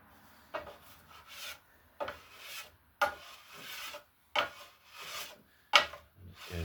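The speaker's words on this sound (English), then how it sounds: "so it's planing beautifully, you can carry on like that" A hand plane shaves along a wooden laminate longbow in about six separate strokes, each a close, rasping swish followed by a short pause, spaced at a fairly steady rhythm.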